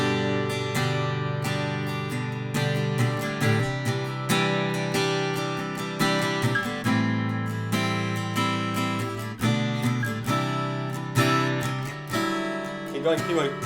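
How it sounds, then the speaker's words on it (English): A J200-style jumbo acoustic guitar played through a Neumann KM184 microphone, ringing strummed chords with dense sustained harmonics and a steady rhythmic attack, close and full, with no talking over it. "what does it sound like through the Neumann KM184, Sam?"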